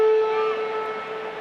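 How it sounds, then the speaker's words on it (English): A single loud half-time siren blast at a rugby sevens match, with a steady, sustained tone that holds for over a second and slowly fades. "Half-time siren sounds."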